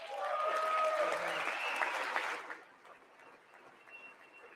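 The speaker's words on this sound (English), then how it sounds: "I wasn't sure if anybody even on this side was going to applaud for that." Applause from lawmakers in the House chamber during a State of the Union address, a broad wash of clapping that holds steady for a couple of seconds and then fades away.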